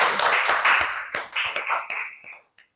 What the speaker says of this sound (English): Let's have a huge round of applause for this.